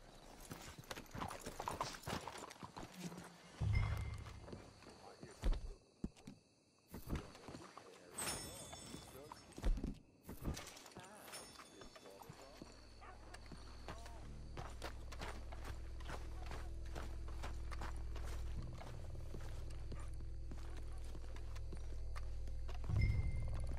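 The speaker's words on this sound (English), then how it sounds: "Get a hold of that horse, will you?" Horse hooves clip-clop in the Western video game Red Dead Redemption 2, irregular hoofbeats and footsteps up close, with voices talking and a low rumbling ambience building underneath.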